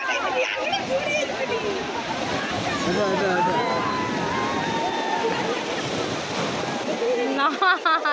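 Sea waves break and slosh against rocks in a continuous, loud wash of surf, with people talking nearby throughout.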